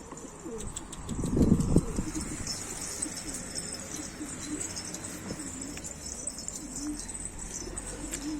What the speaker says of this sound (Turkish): Evet 5 liraya alınan kuş şov yapıyor.